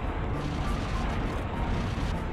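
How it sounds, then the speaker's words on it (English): Continuous, dense explosions fill a space battle in the Space Rangers 2 video game, a loud unbroken rumble of blasts with no gaps between them. "so much explosion"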